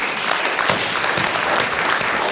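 A congregation applauding during a wedding service, dense, steady clapping from many hands, loud and close and filling the whole stretch without pause.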